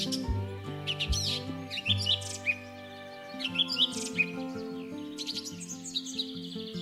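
Birds sing in a quiet village in the misty green hills of Meghalaya, India, giving bright chirps and trilled phrases in repeated bursts at moderate distance. A soft sustained tonal music bed plays beneath the calls, and no one speaks.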